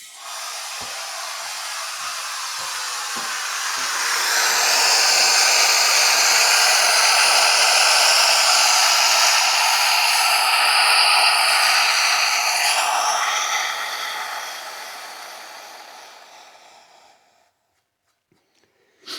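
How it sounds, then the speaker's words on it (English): Air hissing out of a Stihl FC91 trimmer engine during a leak test, a steady loud rushing hiss that swells over several seconds, holds, then tapers away into silence. "Well, that is leaking absolutely terribly."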